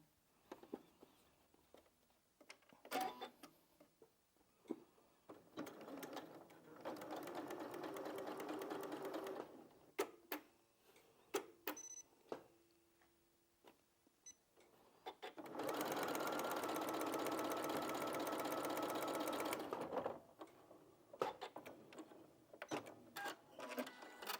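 Sewing machine stitching quilt seams from scrap fabric, two long runs of steady whirring stitching separated by quiet handling clicks and fabric rustles, close but soft.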